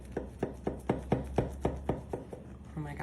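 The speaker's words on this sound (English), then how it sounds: "We're just going to cut down the center." A knife cuts down the center of a warm peanut butter marshmallow dessert, making about nine evenly spaced soft chopping taps against the board, close and fairly quiet, and a voice starts speaking at the end.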